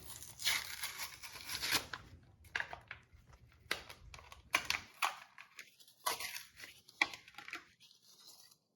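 Crinkling, tearing plastic and paper packaging of a spare car headlight being pulled open close by, in irregular bursts of rustling with brief pauses.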